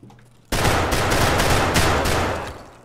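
Twelve-gauge shotgun slugs fired through a choked barrel in Escape from Tarkov, a loud sustained burst of gunfire roaring close and dense for over two seconds before tailing off.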